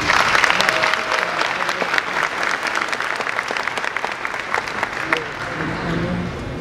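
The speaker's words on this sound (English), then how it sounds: "I want everyone to give one round of applause for Dr. Kate Sykes." A graduation audience gives a round of applause, a dense burst of clapping that starts strong and slowly thins, with a few voices mixed in.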